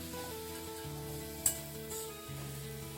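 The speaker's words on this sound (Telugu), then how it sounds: "ఇప్పుడు రోస్ట్ చేసుకున్న శనగగింజలు వేసుకొని బాగా ఫ్రై చేసుకోవాలా" Onions and roasted chickpeas fry in a pan, giving a steady low sizzle with one sharp utensil clink midway and faint stirring scrapes, and no voice over it.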